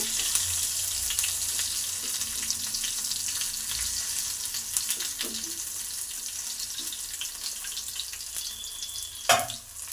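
Garlic fries in oil in a pan, giving a steady, close crackling sizzle throughout, with a brief metallic clink near the end.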